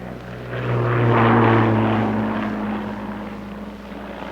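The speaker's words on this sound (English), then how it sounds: "The biplane still held the sky." A propeller-driven biplane at an RAF display droning overhead, its engine hum swelling loud as it passes close and then slowly fading, with no voices.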